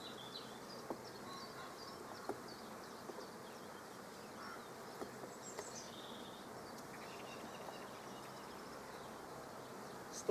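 Honeybees buzz around an open hive of ten brood frames, a soft, continuous drone with scattered faint clicks and knocks, close and quiet, with no talking.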